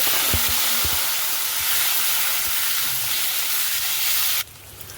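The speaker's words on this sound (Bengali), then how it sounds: "হালকা একটু হলুদ দিয়ে ভেজে নিলাম ডিম কটাকে, এবং সাথে আলু কটাকে" Eggs and potatoes frying in oil with a little turmeric give a steady, loud sizzle and hiss that runs without a break, then drops away suddenly near the end.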